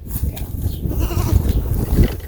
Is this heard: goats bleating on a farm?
yes